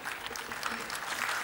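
An audience at a golden jubilee celebration ceremony claps steadily, a dense, even wash of many hands heard at moderate distance and fairly soft.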